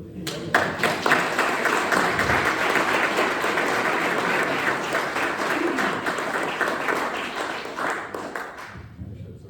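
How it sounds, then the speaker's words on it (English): A room of people at a board meeting gives a sustained, loud round of applause, dense clapping from many hands that swells quickly and holds steady for most of the stretch before thinning out at the very end. "a loud round of applause for my board."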